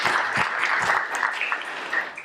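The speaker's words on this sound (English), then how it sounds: "may I ask you to give them a public thank by clapping" An audience claps steadily to thank the Paris colleagues who organized an opening session on Holocaust representation in the Balkans, a dense, even patter that fills the whole moment without a pause.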